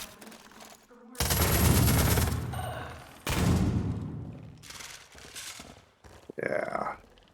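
Loud bursts of gunfire from a pistol in the video game Far Cry 5, with two long heavy volleys and a shorter final burst, plus brief voices in between.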